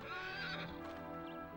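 A horse in the video game Dragon Quest 8 gives a single short, high whinny with a few hoof clops, heard alone and fairly close.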